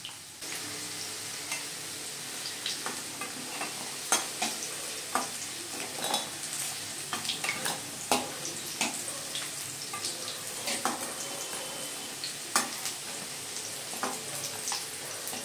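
Green plantain pieces frying in hot oil in a pan for a Bengali shukto, with a steady close sizzle and repeated sharp clinks and scrapes of a spatula stirring against the pan.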